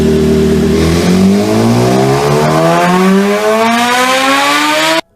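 A high-revving BMW S1000RR superbike engine screams upward in pitch continuously for about five seconds, loud and close, then cuts off abruptly.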